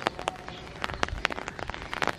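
Light rain falls in Sialkot, scattered drops pattering and tapping irregularly on nearby surfaces, fairly close and steady, with no voices.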